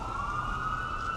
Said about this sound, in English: here's your ambulance of the day